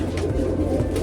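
A racing or fancy pigeon cooing softly over a low, steady murmur, with a few faint, rhythmic coos across the short stretch.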